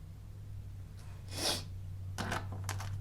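A single soft sneeze from a woman sitting quietly indoors, a sharp breathy burst followed by a couple of short snorting exhales over a low background hum.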